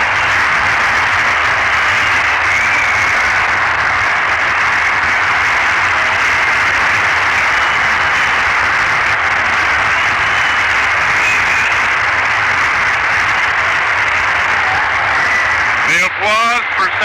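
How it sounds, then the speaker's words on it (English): A large Yankee Stadium crowd at the 1963 World Series applauds Sandy Koufax, a broad steady roar of clapping and cheering lasting throughout, with a brief sharper burst near the end. "Applause for Sandy Koufax"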